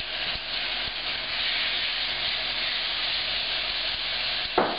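Pork sizzles in a hot skillet for an orange pork stir fry, a steady close frying hiss with faint crackles and a soft clink near the end.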